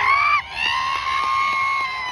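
At a bodybuilding show in Shirdi, a crowd lets out a loud, sustained shout and whoop. The roar holds steady across the whole couple of seconds.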